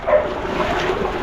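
A dog trapped by deep floodwater in a narrow alley barks briefly. The short bark is muffled and sits over a wash of background noise.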